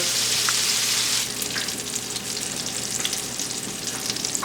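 80-20 ground beef hamburger patties fry in a pan with a loud, continuous sizzle and spatter that drops slightly in intensity after a moment, close and without talk.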